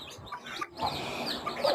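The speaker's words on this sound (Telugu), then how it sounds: "ఈ కోడి దగ్గర ఎన్ని చిక్స్ ఉన్నాయో చూడండి ఫ్రెండ్స్" Soft clucks and thin peeping chirps of poultry, close by, with light rustling in the background.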